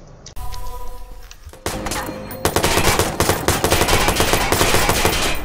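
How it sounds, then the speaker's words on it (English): Rapid gunfire in the Watch Dogs video game, a continuous stream of loud automatic shots that builds in intensity, with quieter game sounds and a sharp burst before the sustained firing. "Why in the world am I shooting rapidly?"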